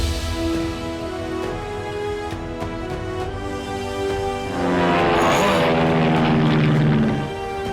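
A cartoon propeller airplane's engine drones steadily, then swells louder with a rushing whoosh near the end before cutting off, with music or effects layered underneath.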